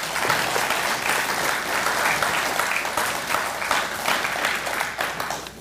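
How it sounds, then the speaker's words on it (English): A room full of astronomy club members at a monthly meeting breaks into loud, continuous applause, a thick, steady clatter of many hands that holds for several seconds without talk. "I think he deserves a round of applause."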